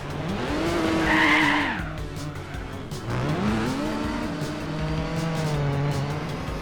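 A Nissan Skyline on dirt tires in Gran Turismo 4 spins its wheels, loud engine revs rising and falling with screeching tire squeal, two long surges of wheelspin close up and without talk.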